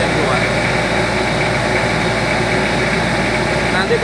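Car engine with a leaking cylinder head gasket, revved to higher RPM, a loud, dense, steady mechanical roar with constant vibration throughout, close up and with no speech.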